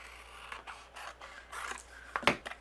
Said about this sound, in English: I am just going to trim a little bit off here.